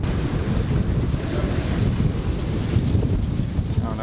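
Wind buffets the microphone and waves wash around a boat at its anchorage, a dense, loud, continuous roar of gusts and surf.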